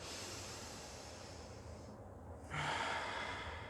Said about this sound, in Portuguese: Respire fundo uma vez profundamente.